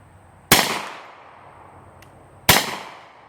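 Two sharp, loud gunshots from a Kel Tec Sub 2000 carbine in .40 S&W, about two seconds apart, each with a short ringing decay outdoors.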